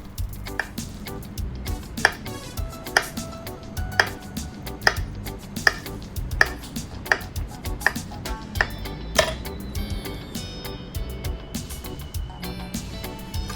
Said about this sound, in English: we're going to slice some avocado